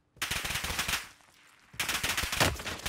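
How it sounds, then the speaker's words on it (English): Loud rapid machine-gun fire in Call of Duty, two dense bursts separated by a brief quieter gap. "I'm getting shot from so many angles"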